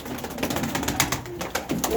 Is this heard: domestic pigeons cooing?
yes